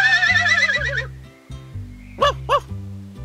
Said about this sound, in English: Who can neigh like that?